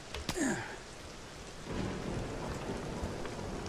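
Steady rain hisses in the video game Thief while a sharp thunder crack breaks out near the start and fades into a low rumble under the downpour.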